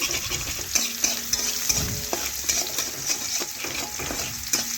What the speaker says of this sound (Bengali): একটু নাড়াচাড়া করে পেঁয়াজ একটু ভেজে নিচ্ছি।